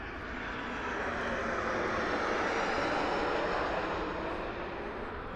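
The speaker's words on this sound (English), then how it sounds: "And we have a Southwest flight coming in right behind us right now." A Southwest jet airliner comes in to land at Las Vegas Harry Reid International Airport as a broad, steady rumbling roar that swells slightly and then eases over a few seconds, with no voices.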